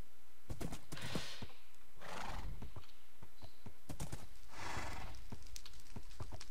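A horse in the Minecraft video game neighing and whinnying repeatedly, with loud clip-clop hoofbeats and thumps between the calls, all close and prominent.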